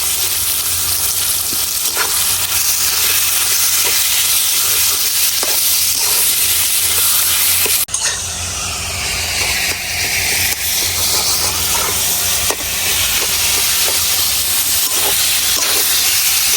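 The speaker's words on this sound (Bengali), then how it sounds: "এখন এই মাংসের কিমাটাও ভাজে নিলাম।" Spice-coated minced chicken fries loudly in a pan with a constant bright hiss and sizzle, stirred with occasional scraping clicks, close and continuous.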